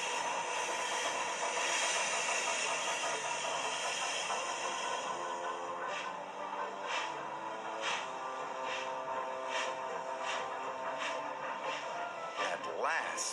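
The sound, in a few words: steam train engine hissing and starting to move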